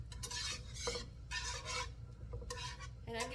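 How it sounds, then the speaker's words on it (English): Cold butter whisked tablespoon by tablespoon into a lemon butter sauce in a pan makes quiet, rhythmic bursts of wire-whisk swishing and scraping, with short pauses between strokes and no speech. "I'm going to keep whisking in my 7 tablespoons of butter until they're all melted."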